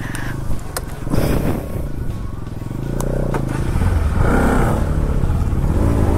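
Engine of a Bajaj Pulsar NS200 motorcycle revs near and loud on an off-road stretch, its rumble building and holding steady, with faint voices mixed in.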